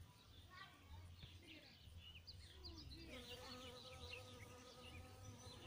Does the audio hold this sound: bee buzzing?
yes